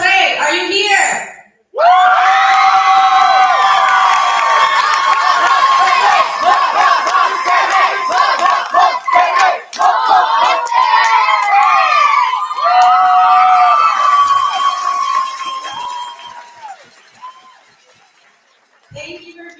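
A large crowd at the opening ceremony of the 2025 Texas Great Debate cheers and shouts loudly during a regional roll call, with sustained whoops and yells that run on for many seconds and then fade out.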